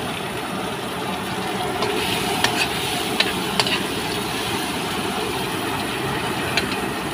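Whole tawilis fish fry in a pan with a loud, dense, continuous sizzle and crackle, broken by a few sharp spatters and utensil clicks.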